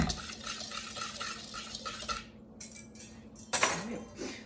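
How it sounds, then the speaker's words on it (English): Flour, salt and sugar whisked together in a mixing bowl, a steady rapid scraping and clinking of the whisk for about two seconds, then a pause and a sharper clatter near the end. "I'm going to use my whisk. Just kind of mix it all up."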